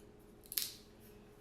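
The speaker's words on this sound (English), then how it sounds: "I'm going to stick it in our garlic press without peeling it." Unpeeled garlic is squeezed in a garlic press, giving one short crunching snap that fades quickly, followed by a faint click, close and quiet.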